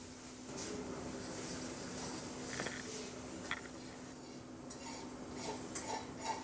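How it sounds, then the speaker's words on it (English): Half a pound of ground beef browning with chopped onion in a pan on a stovetop, a steady low sizzle with scattered clinks and scrapes of a utensil stirring against the pan. "She is browning ½ a pound of ground beef with a chopped onion on top of the stove"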